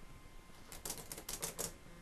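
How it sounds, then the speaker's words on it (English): Typewriter keys struck in a quick, uneven burst of about half a dozen sharp clacks after a short quiet start, fairly close and alone with no talk. "This is a lot of typing."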